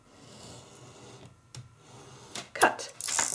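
Scissors cut a strip of wrapping paper from a roll, a quiet lead-in, then a few crisp close snips and a sharp papery crackle and rustle building toward the end.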